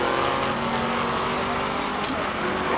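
Race car engine droning steadily while driving up the Simola hillclimb, a continuous loud roar with a faint pitch rise near the end, heard under a commentator's voice.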